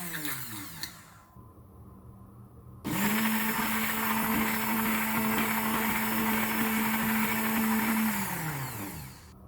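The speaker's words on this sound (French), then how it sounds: "Après on va prendre un mixeur" An electric blender grinds a walnut oil hair mask mixture. After a quieter stretch it starts abruptly and runs at a steady high whine for about five seconds, then winds down.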